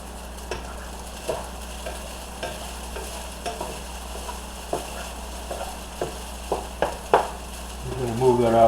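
Fried rice cooking in a pan on an electric stove, with quiet sizzling and repeated scraping stirs at irregular intervals, close by; a brief louder hiss rises near the end.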